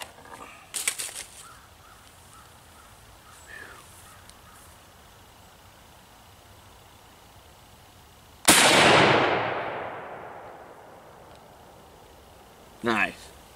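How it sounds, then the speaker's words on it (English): A 1909 Argentine Mauser in 7.65x53 fired outdoors at a pond, one loud sharp rifle report with a long rolling decay, following quieter handling noises and preceding a short clatter near the end. "I was expecting the box to flip on that shot. '09 Argentine Mauser"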